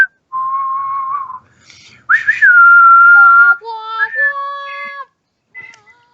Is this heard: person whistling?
yes